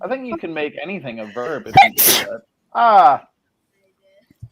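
A single sharp sneeze breaks into conversation, loud and close, with people talking before and after it.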